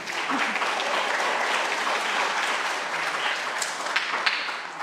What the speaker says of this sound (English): They're applauding.